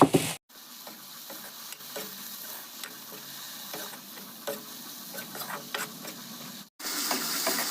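Masoor lentils stir-fried in a pan along with greens, giving a steady close sizzle with scattered scraping ticks of the stirring spoon; there are abrupt louder bursts at the start and end.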